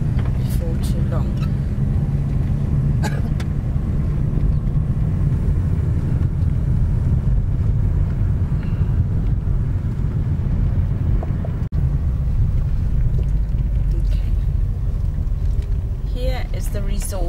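A car driving through Pamporovo ski resort, with steady close engine and road rumble and wind buffeting under continuous talk, plus a few brief clicks and knocks.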